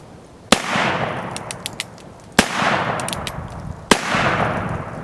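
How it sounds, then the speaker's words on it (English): Three sharp, loud gunshots from an Old West-style firearm aimed at the ground crack out about two seconds apart, each followed by a lingering rumbling echo and faint metallic clinks. "Point it at the ground, put my ears on, and the plan is to shoot 2 rounds here"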